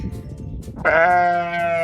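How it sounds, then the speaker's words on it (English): A Katahdin sheep on a farm gives one loud, close bleat that rises out of low background noise and holds steady until the end. "we actually raise Katahdin sheep to eat."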